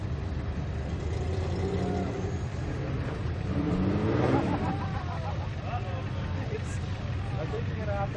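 Off-road vehicle grinding along a trail at an off-road games event, a steady close engine rumble with a brief rev in the middle, while people talk over it throughout.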